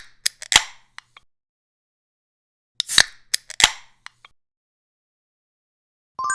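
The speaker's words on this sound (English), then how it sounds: "Soda can opening." A soda can being opened: two bursts of sharp metallic clicks and crackles, each a short cluster of snaps separated by silence, crisp and close.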